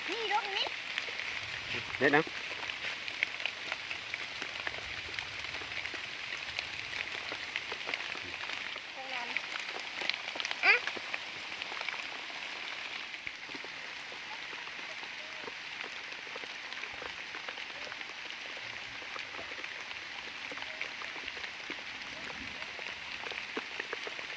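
Heavy rain falls in a forest as a steady, soft hiss of drops on leaves and ground. Someone speaks quietly at times, and faint scattered knocks and clicks come through now and then.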